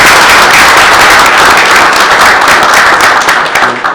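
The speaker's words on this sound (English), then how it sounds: "Let's give them a round of applause." Audience applause at a school board meeting, a dense, loud, steady clatter of many hands close by that holds for about four seconds before tapering off.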